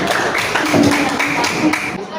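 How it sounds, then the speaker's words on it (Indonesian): An audience claps steadily and densely for a group about to present during a classroom coaching practice session, a continuous wash of hand claps that fades out at the end. "Tepuk tanganlah untuk kelompok senado sudah mau tampil duluan."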